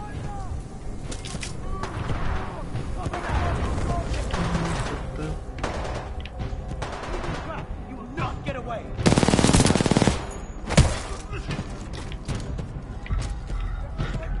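Automatic and single gunshots fire in the video game Titanfall 2, irregular bursts and thuds throughout with a loud dense volley near the middle, mixed with game sounds and occasional speech.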